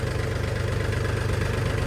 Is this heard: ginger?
no